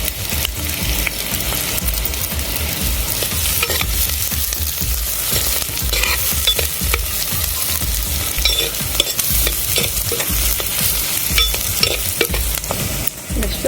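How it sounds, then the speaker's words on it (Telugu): Green chillies sizzle steadily in a pan with onions while a utensil scrapes and stirs in frequent irregular strokes, close and continuous, with no voices, for a traditional tamarind-leaf prawn curry. "ఇప్పుడు పచ్చిమిర్చి కూడా వేసేసుకున్నాము."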